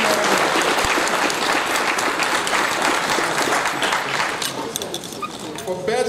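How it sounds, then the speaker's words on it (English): Steady applause fills a conference hall at a university graduation ceremony in Yaounde as the best ICT student of the class of 2018 is honored, loud and continuous with a few voices in the crowd. "Let's give him a round of applause"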